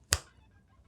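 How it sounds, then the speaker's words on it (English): A single sharp finger snap, close and crisp, followed by quiet room tone. "Kind of like how when I snap my fingers"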